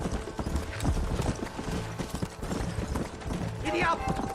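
Horse hooves trot at a steady clip-clop pace in the Red Dead Redemption video game, set in West Elizabeth, loud and continuous over a dense mix of other game sound.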